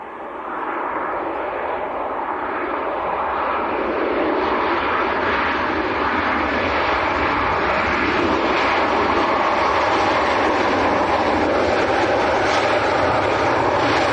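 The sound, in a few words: airliner flying at Leeds Bradford Airport, likely from Lanzarote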